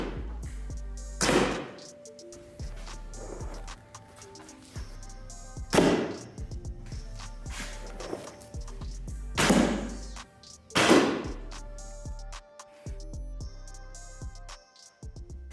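Arrows tipped with broadheads hit an archery target one after another, each landing as a dull thud followed by a short rustle. About half a dozen impacts come at uneven intervals, fairly quiet against a calm background.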